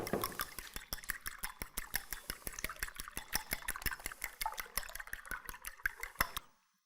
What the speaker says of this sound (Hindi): तो अंडे जो है वो हम फेंट लेते हैं।